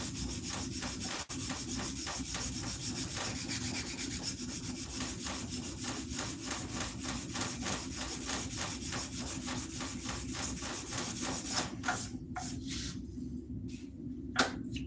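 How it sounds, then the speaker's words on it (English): Sandpaper rubs steadily back and forth along the wooden handle of an axe, a loud, close, rhythmic scratching that runs for most of the time before stopping near the end with a few short strokes. "We're gonna hit it with the sandpaper."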